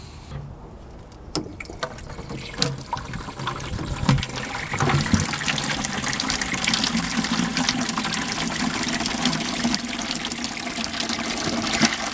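Rainwater mixed with fish emulsion is poured onto garden plants. After a few soft knocks, a close, steady trickling pour splashes on and on, with no talking.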